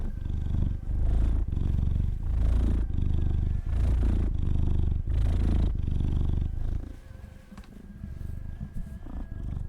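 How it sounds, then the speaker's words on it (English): A heavy 16-pound domestic cat purring loudly and close up, a rhythmic rumble of repeated breaths that grows slightly softer near the end, with no talking. "Oh, he's a big boy and he purrs so much."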